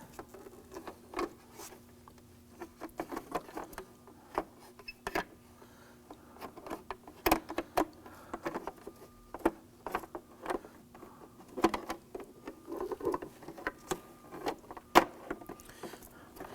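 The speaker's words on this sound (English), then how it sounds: "You can hear it click as you press all the way around." Small plastic clicks and snaps repeat irregularly, close and fairly quiet, as a plastic tow-mirror cover on a 2015-2020 Ford F-150 is pressed firmly into place piece by piece.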